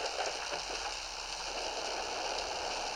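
Steady, dense rain hisses continuously in the motorcycle riding game Traffic Rider, a constant wash of falling water with no pauses.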